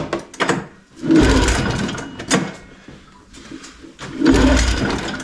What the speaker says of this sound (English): Gonna take a couple pulls to get the carb filled up